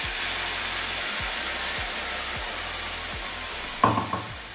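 Bitter gourd being stirred in mustard paste in a pan while cooking, a low steady sizzle and hiss with a soft regular scraping rhythm, and a brief louder clatter near the end.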